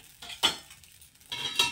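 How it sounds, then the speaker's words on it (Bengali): A metal lid set onto a pan while making milk-soaked pitha, two light clanks of metal on metal about a second apart, heard close with no talking. "এবার আমি আবারও ঢাকনা দিয়ে দিচ্ছি।"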